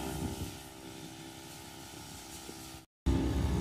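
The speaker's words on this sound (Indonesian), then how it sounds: "suara mesin pemotong rumput masih aktif" A steady motor drone hums continuously in the background, fairly faint and even, then briefly cuts out before returning a bit louder.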